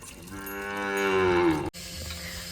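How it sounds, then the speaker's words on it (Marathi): A farm cow at its drinking spot gives one loud, drawn-out moo that swells for over a second, then cuts off abruptly into quiet barn background. "तिथं आपली गाय पाणी पिते"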